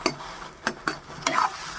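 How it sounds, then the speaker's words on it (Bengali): Stirring and frying of a spice mix in a pan for pea kachori, with a few distinct scraping knocks of a spoon against the pan over a soft sizzle, close by with no talk. "এবারে মশলাটাকে আমি একটু ভেজে নেব"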